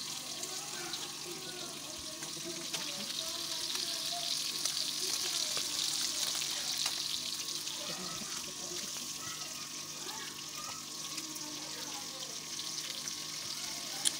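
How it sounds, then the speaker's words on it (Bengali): Rohu fish pieces fry in a pan on a home kitchen stove, giving a steady, continuous sizzle with a bright hiss that holds throughout at moderate loudness, with no talk over it. "এক সাইডে আমি রুই মাছের পিসগুলো ভেজে নিচ্ছি।"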